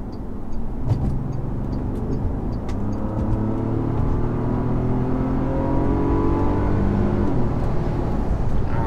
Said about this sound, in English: The sound of that W12, my gosh, it doesn't get old.